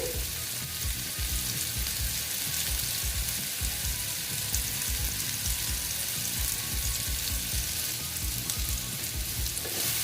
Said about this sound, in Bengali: আজকে একরকম রান্না করছি দেখো ভেজে নিচ্ছি